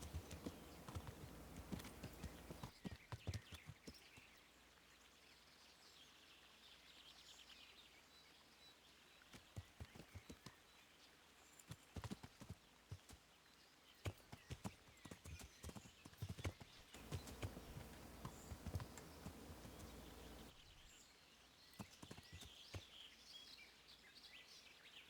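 Horse hooves in Kingdom Come Deliverance clip-clopping in a steady walking rhythm, clear and close, with birdsong in the background.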